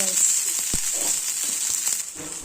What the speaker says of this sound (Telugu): తర్వాత ఇందులో రైస్ వేయాలి